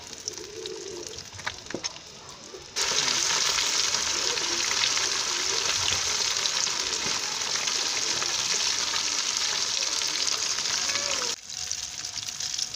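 Dola fish frying in oil makes a sharp sizzle that suddenly swells loud and steady, then drops back to a softer crackle near the end, close by, with no speech.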